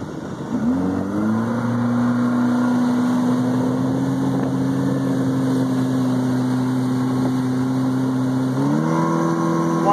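A Yamaha four-stroke outboard motor on a small boat, suffering low fuel pressure, drones loud and close at steady high revs, its pitch sagging as it bogs down, then climbing again near the end; no talk.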